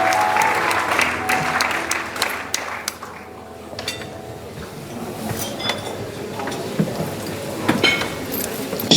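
A church congregation at a consecration celebration bursts into sustained loud applause and cheering acclaiming the Lord, the clapping dense and continuous throughout with scattered shouts.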